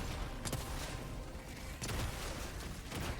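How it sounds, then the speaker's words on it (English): A grenade pistol in Helldivers 2 fires and explodes in a few dull booms spaced about a second or more apart, over a dense roar of battle noise. "And here's the grenade pistol. Does the job for you."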